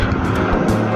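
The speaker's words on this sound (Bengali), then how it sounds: "আর দেখেন রোবোটিক, এগ্রেসিভ রোবোটিক ইঞ্জিনটা যদি আমরা চালু করি" A Hero Xtreme 125R motorcycle engine runs loud and close, a dense steady roar that holds through the whole short moment without a break.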